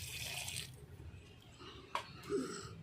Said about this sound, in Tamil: இரநூறு ml தண்ணி விட்டுக்கலாம்.